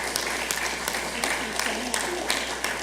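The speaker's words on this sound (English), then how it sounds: "Big round of applause for all our" Audience applause at an awards ceremony, a steady wash of clapping throughout with a few louder claps standing out, a murmur of voices faintly underneath.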